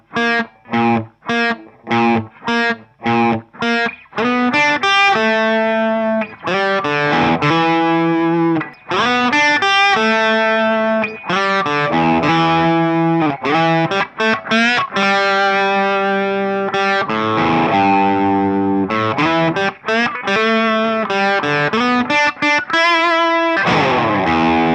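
The intro riff of a song on heavily distorted electric guitar, opening with choppy staccato chords and then sustained, driving chords with effects, loud and continuous.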